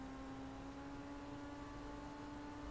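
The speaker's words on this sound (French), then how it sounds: "T'entends ton moteur qui monte." A Karin S95 car engine in a video game hums at a steady high pitch under throttle, a continuous tonal drone with whirring noise and no clear rise, fairly faint and alone.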